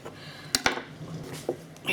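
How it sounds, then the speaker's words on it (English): A knife chops ginger on a kitchen board, giving a few sharp, close knocks in an uneven rhythm, with soft voice sounds between them. "See, I'm just chopping away as usual."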